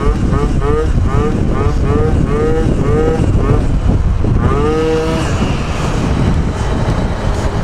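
Tuned Honda Dio 35ZX stunt scooter engine revving and accelerating in repeated rising sweeps, loud and close, with a rider talking over it.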